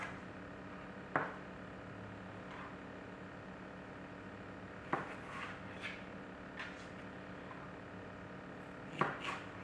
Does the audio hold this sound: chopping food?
yes